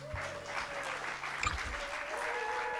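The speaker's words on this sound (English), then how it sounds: "Keep the applause going for all the artists you saw tonight." Audience applause at a live comedy show, a steady wash of clapping from a crowd that carries on throughout, with a faint tonal hum beneath it.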